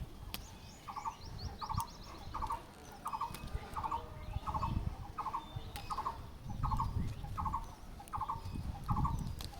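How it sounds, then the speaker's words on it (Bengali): A bird calls over and over in a steady rhythm of short, bright notes on a rooftop garden, with outdoor background noise underneath. "আর পাখির ডাক শুনতে পাচ্ছেন"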